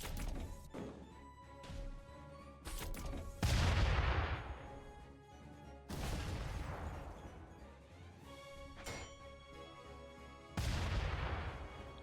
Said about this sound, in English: now what we're going to do for Pike is just have him fire another AA missile at that guy in the back.